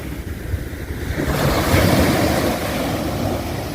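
Large ocean waves break on Bang Saray beach in Sattahip, Chonburi, a loud close surge of surf that swells into a roaring crash, then settles into a steady wash, with wind rushing across the microphone.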